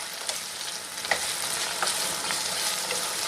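Ground masala paste being stirred into a potato and green chickpea curry in a hot pan, a steady sizzle broken by a few sharp scrapes and clacks of the spoon, close up with no voices.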